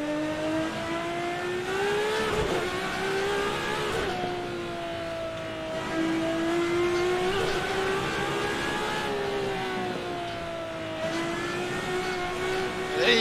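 Engine of the HiPole Vento Uno racing car mod in Assetto Corsa drives a lap, a loud continuous whine rising and falling with gear changes and throttle, close and steady throughout.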